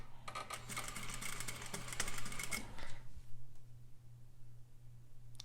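An overlock sewing machine stitches a back stitch at the start of a 1/2-inch closed topstitch seam, a close, rapid mechanical chatter for about three seconds before it stops and leaves a quiet hum.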